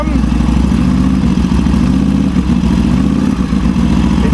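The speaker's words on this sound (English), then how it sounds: "Give it a little RPM." Motorcycle engine held at raised revs while checking the charging system, a loud steady drone with slight wavering through the whole stretch and no talk over it.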